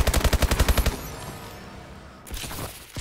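Burst-fire gunshots in Call of Duty Advanced Warfare Gun Game, a rapid run of about ten sharp, evenly spaced reports up close, followed by fading echoes and quieter game sounds.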